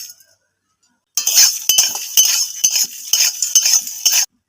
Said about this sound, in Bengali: গোটা মশলাগুলো শুকনো খোলায় ভেজে নেব।